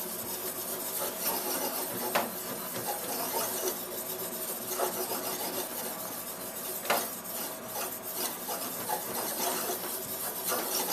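A draw knife blade rubbed back and forth on an oiled sharpening stone gives a steady gritty rasping, with a few sharper scrapes standing out among the continuous strokes, close and fairly quiet.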